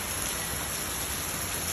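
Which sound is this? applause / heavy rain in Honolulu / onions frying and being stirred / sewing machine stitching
heavy rain in Honolulu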